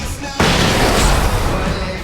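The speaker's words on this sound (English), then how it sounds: "I can set off more of the fireworks from here and help you out!" Fireworks go off in the Alan Wake Remastered video game: after a brief pause, a loud broad boom bursts in and rumbles on continuously for the rest of the moment, with no talking.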